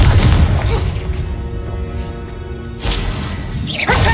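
Bombarda and Confringo spell blasts from Hogwarts Legacy erupt as heavy, booming explosions, a loud close blast followed by a rumbling tail and then two more sharp detonations.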